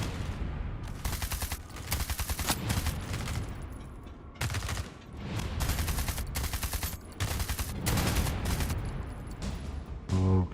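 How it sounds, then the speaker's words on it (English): Robots firing guns in a video game demo, rapid bursts of loud automatic gunfire in clustered volleys with short pauses between, close and harsh, continuing across the whole stretch. "No, robots are shooting at us."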